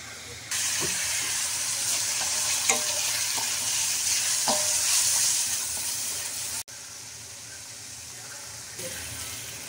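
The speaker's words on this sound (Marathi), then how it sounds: "कांदा आपला आता मऊ होत आलाय. आपण त्याच्यात ही भाजी टाकूया आणि चांगली कांद्यात मिक्स करून घेऊया." Onions frying in a pan for a ranbhaji dish, a steady broad sizzle with scattered stirring scrapes; the hiss drops off briefly partway through, then resumes.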